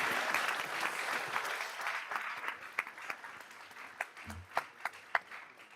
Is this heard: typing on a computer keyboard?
no